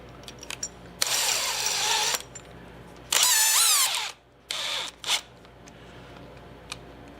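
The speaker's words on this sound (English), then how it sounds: "I grab a drill motor." A drill motor used to tap a hole whirs in several short bursts, the longest about a second, winding up and down in pitch, close by with quiet gaps between.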